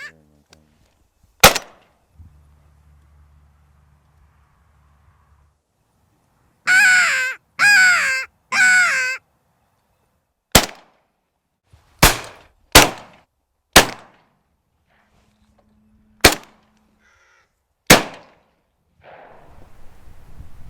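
Crows over a field during crow and pigeon control with decoys give three harsh, close caws in quick succession. Sharp, isolated cracks of shotgun fire ring out before and after, spaced a second or two apart.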